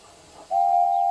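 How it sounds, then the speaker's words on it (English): Steam engines whistle: a loud, clear, sustained single-pitched whistle starts after a brief, quieter lead-in and holds steadily for under a second. "They whistled impatiently."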